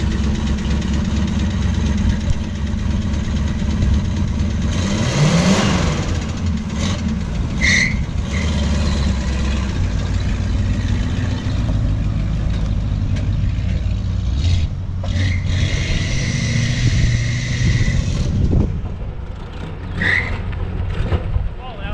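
A 1965 Plymouth Fury wagon engine warming up and running, a loud continuous idle with a steady low rumble and a few brief squeals and revs, close to the car, with some talk faintly in the background.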